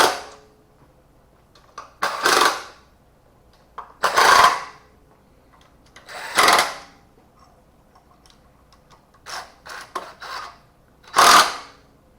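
A torque wrench tightening the intake manifold bolts on a Big Block Mopar engine, heard as about five or six separate bursts of close ratcheting clicks with quiet gaps between them. No one speaks.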